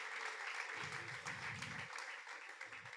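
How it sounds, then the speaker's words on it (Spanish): Quiet applause from a church congregation during a Sunday morning service, a soft, continuous patter of many hands with faint low murmurs underneath. "Le damos un aplauso a Dios en esta mañana si lo cree"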